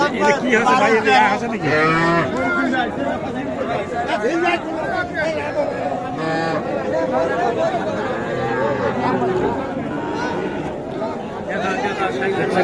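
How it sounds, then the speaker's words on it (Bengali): Cattle moo repeatedly at a busy livestock market where young heifer calves are sold, deep lowing calls mixed with steady human chatter and crowd noise nearby. "সবগুলোই কিন্তু বকনা বাছুর"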